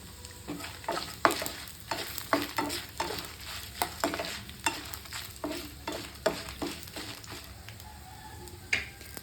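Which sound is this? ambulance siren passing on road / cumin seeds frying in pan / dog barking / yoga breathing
cumin seeds frying in pan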